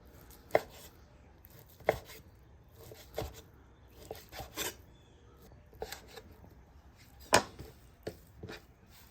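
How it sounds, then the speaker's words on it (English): A knife chops grilled carne asada steak into bite-sized pieces against the grain on a cutting board, with about a dozen sharp, irregular chops and some quieter scraping between them, close and fairly loud. "So now that we cut with the grain, we're gonna cut against the grain"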